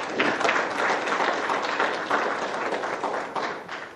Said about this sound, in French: Je souhaite que vous les applaudissiez.